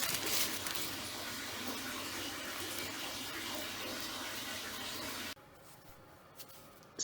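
Water fills a bath in a steady, loud rush, then cuts to a much quieter, still tub with faint sloshing and a small splash near the end.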